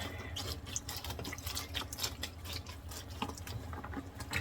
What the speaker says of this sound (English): They're soaking up, they're re-soaking up the water. So I'm gonna squish them down.